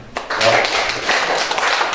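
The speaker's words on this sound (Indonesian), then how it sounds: "Kita kasih tepuk tangan" Brief burst of audience applause at a church small-group gathering, dense clapping from a room of people starting abruptly and continuing steadily for a couple of seconds.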